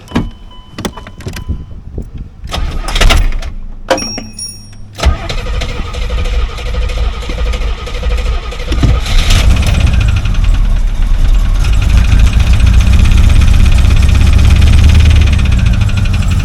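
A C4 Corvette engine cranks in gear and catches after some clicks and clunks, then settles into a steady, loud idle that continues to the end.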